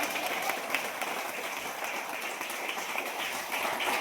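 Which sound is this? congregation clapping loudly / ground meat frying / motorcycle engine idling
congregation clapping loudly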